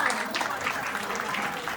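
Audience applause at a Diwali celebration, steady broadband clapping sustained throughout, moderately loud and fairly close, with no clear voices on top.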